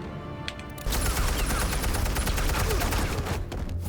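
Rapid bursts of gunfire in a Batman: The Telltale Series game scene, loud dense shots rattling continuously for several seconds after a brief quieter start.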